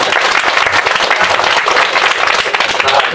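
Lively audience applause at a Korean political talk forum, loud continuous clapping from a packed room with some crowd murmur mixed in.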